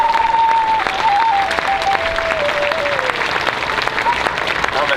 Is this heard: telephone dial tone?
no